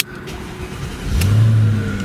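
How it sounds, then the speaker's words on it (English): A 2006 Mercedes-Benz SL500 engine cranks and fires into a loud, deep rev that swells and then settles into a strong, steady idle close by. "the first thing you might notice when I crank this thing up is a very healthy growl"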